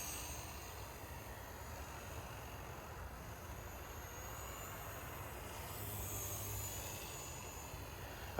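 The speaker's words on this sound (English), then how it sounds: "I wonder how far you can fly helicopters." A Blade 230s Smart v2 radio-controlled helicopter flies at a distance, its rotor and motor giving a steady, moderate whirring drone with a thin high whine. The sound stays even throughout, with a slight swell near the end.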